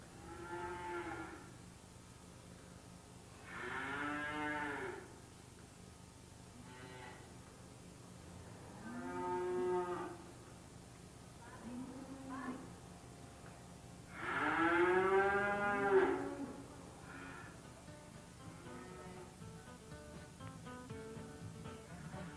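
Dairy cows on a Wisconsin farm moo repeatedly, several long lowing calls of varying loudness spread across a quiet background, one especially loud and drawn out near the middle.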